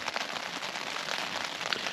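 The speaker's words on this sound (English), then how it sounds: "You can probably hear the rain's pitter-pattering down outside" Steady rain pattering on a tent during a solo wild camping trip, heard from inside the tent as a dense, even hiss of drops with no talking.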